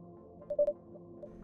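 A telephone dials in the horror video game Mind Corruption Bureau: a quick cluster of two or three short tones, fairly quiet, over a low background hum.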